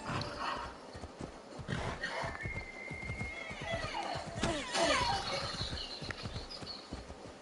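A horse in the video game Assassin's Creed Odyssey gallops with rapid hoofbeats throughout, and a whinny cuts in near the middle, mixed with game ambience.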